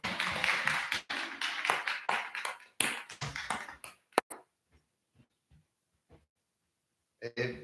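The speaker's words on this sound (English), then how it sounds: "Round of applause." A small meetup audience at a creative-industry multimedia gathering claps in a short, uneven burst that breaks off into scattered single claps and taps, with near silence between them and a brief voice at the end.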